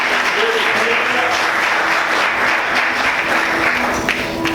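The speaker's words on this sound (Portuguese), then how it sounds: "Você consegue aplaudir Jesus bem forte?" A church congregation applauding loudly during a worship service, a close, continuous wash of many hands clapping with scattered voices mixed in throughout.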